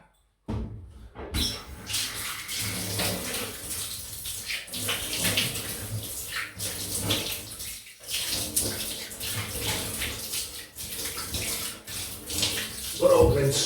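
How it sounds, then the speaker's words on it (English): A tap runs steadily for a cold rinse during a wet shave, with a constant close hiss of flowing water broken by brief pauses and small clatters. "just going down for the usual cold rinse here"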